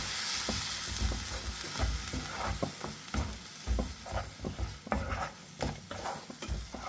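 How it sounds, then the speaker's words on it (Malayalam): Ground tomato purée is stirred into soya chunks masala frying in a pan, with a steady sizzle under repeated scraping strokes of a spoon, close and fairly loud throughout. "ഇത് ഒഴിച്ചു കൊടുക്കാം അതിനുശേഷം നല്ലപോലെ ഒന്ന് മിക്സ് ചെയ്ത് കൊടുക്കാം"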